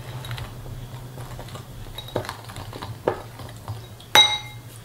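Praline cream mixture being stirred in a bowl, with a spoon or whisk clinking and scraping against the sides in irregular taps, a bright metallic clink near the end over a low steady hum.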